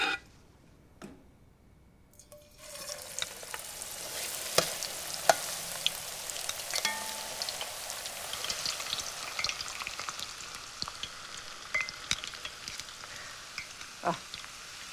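Food drops into hot oil for deep frying, followed by a steady, bubbling sizzle with scattered pops and crackles, soft at first and building, close and continuous with no talking.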